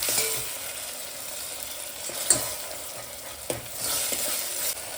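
Chopped onion and tomato with curry leaves sauté in a hot pan, a steady close sizzle broken by a few sharp scrapes and knocks of the spoon against the pan.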